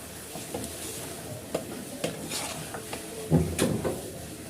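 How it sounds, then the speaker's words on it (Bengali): Khichuri being stirred in a cooking pot, with soft scraping and knocking of a spoon against the metal over a low sizzle, irregular strokes at close range. "এখন আমি এটাকে খিচুড়িটিকে নেড়ে নিব।"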